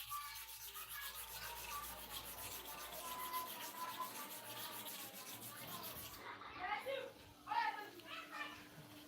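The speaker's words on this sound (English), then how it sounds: "You see the way I'm sharpening?" Clipper blades rubbed back and forth on a sharpening stone wetted with kerosene, a faint rhythmic scraping with children's voices and chatter in the background.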